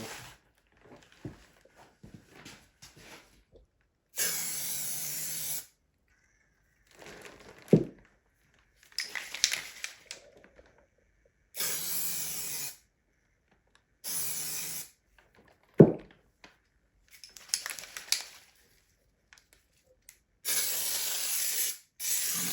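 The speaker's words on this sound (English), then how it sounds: "Why are you spraying like that?" Several separate bursts of spray hiss from an Amaco Sprayz spray marker bottle, each lasting about a second or two, with quiet pauses and soft handling noises in between.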